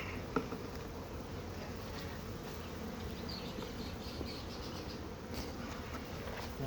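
Honeybees hum in a dense, steady drone around an open beehive during spring frame work, a continuous close buzz with faint handling noises.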